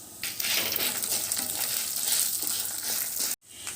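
Coriander seeds, mustard seeds and fenugreek fry in a pan for restaurant-style sambar, giving a continuous dry sizzle and crackle that cuts off abruptly near the end.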